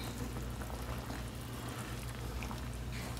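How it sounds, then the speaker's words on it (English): Liquid for Haitian-style cranberry beans and rice boils in a pot, a dense continuous bubbling and gurgling heard close up, steady throughout with no voices. "our liquid has come to a boil"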